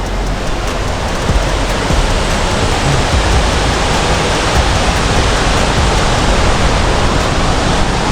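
Hulugan Falls pours with a constant, loud, broadband roar of falling water, steady and close with no voices.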